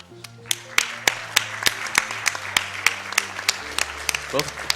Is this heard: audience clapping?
yes